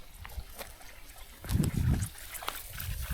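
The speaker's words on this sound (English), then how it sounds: "I have drip irrigations now here in the big buckets" Drip irrigation trickling water into big buckets of potted lilies, a soft irregular dribbling with small splashes, close and moderately quiet, swelling briefly in the middle.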